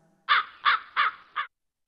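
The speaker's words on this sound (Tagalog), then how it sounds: "May uwak." A crow caws four times in quick succession, clear and close, with nothing else around it.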